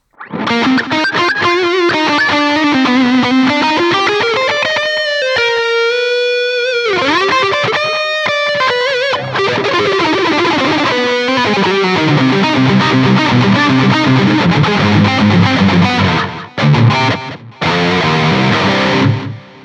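Distorted electric guitar through a Line 6 POD XT studio delay effect plays a wavering melodic line drenched in echoing repeats, with sustained notes and brief gaps where the trails ring out.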